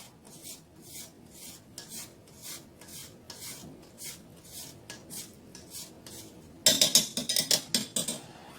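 A lime is scraped against a grater in a rhythmic run of short rasping strokes, close and crisp, with a louder, faster burst of scraping near the end and no talking.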